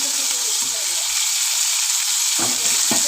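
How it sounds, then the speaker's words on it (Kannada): Tomatoes and onions fry in a pan with a loud, steady hiss of sizzling oil, broken by a few soft stirring knocks near the end. "ಟೊಮೆಟೊ ಸ್ವಲ್ಪ ಫ್ರೈ ಮಾಡ್ಕೊಳ್ಳೋಣ"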